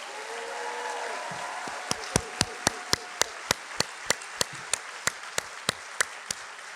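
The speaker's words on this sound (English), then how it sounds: "please give the class of 2028 a rowdy, energetic round of applause" Sparse, evenly spaced claps ring out one by one at a white coat ceremony for a medical school's incoming class of 2028, following a brief stretch of quieter room noise.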